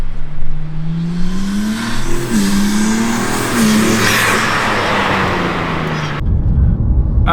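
Loud, close revving from a BMW G80 with IRL exhaust valve controllers, the exhaust note rising and dipping in several pulls over a sustained drone before cutting off abruptly, with no voices.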